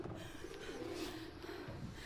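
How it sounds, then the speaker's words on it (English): Pigeons coo softly in Mirror's Edge Catalyst, a faint low warbling call running under quiet ambient background noise for a couple of seconds. "Shut up, pigeons."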